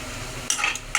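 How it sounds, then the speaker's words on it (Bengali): Spice paste for a Bombay duck curry is stir-fried in an oiled pan, heard as two short, close scraping stir strokes over a faint sizzle. "আমি মশলাটাকে এবার ভালো মতন কষাবো"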